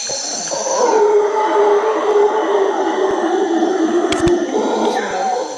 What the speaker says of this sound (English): That would be a howler monkey.